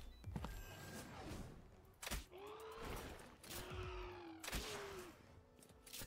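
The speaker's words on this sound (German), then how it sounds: "block den Schuss, das ist okay" Gunfire in the video game Palworld: four sharp, loud shots spaced irregularly over a few seconds, each with a short ringing tail, over a low background of game ambience.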